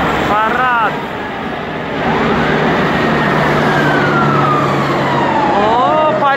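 A fire truck siren at an Independence Day parade in Bat Yam, Israel, loud and close, its wailing tone sweeping up and down continuously over steady traffic noise and crowd sound.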